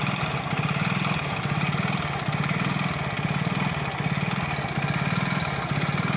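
Vehicle engine running steadily after being put in gear, a continuous close rumble with a fast regular pulse and no pauses.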